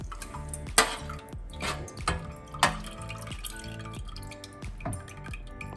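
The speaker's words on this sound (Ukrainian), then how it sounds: "беремо кастрюльку і переливаємо сюди цей соус" Hot sauce poured from a small saucepan onto a baking tray for home-style pork roast, with wet drips and splashes plus metallic clinks of the pan against the tray, close and fairly quiet, no talking.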